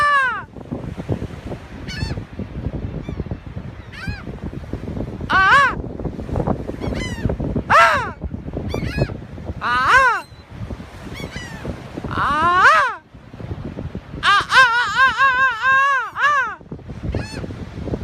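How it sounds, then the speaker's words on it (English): A flock of seagulls crowds close around, their loud harsh calls and squawks overlapping in irregular bursts with brief gaps and a busy background. "look at all these seagulls"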